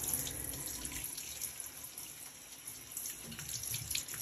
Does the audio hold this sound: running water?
yes